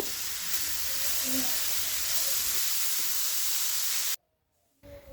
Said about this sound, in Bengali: এর মধ্যে গাজরটা দিয়ে দিচ্ছি গাজরটাকে কিছুক্ষণ ভেজে নেব